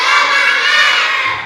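A class of children shouting and cheering together during an ice-breaking warm-up, a loud, dense burst of young voices that holds steady for the whole moment.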